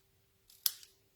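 A single quick snip of scissors trimming the end of a paper piece for a craft project, a sharp close cut rising out of near silence and fading fast.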